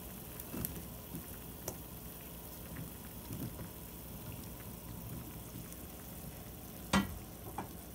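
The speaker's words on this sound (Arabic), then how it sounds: "دلوقتي الطماطم بتاعتنا والخليط كله اهو بدأ يغلي" Tomato and zucchini mixture for a baked zucchini and minced meat casserole coming to a boil in a pot, a soft steady bubbling simmer with occasional louder pops and spits, including a sharp one near the end.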